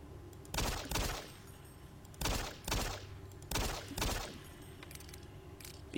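Pistol shots in Doom 3: about six sharp, echoing reports come in loose pairs, with quiet gaps between them.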